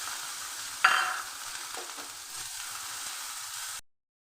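Onions frying in ghee for berista, a steady broadband sizzle with a sharp clink near the start, then softer stirring scrapes before the sound cuts off.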